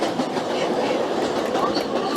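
An NYC subway train rolls steadily in the OpenBVE simulator, giving a dense, continuous rumble with faint clickety-clack throughout, close and loud and with no speech over it.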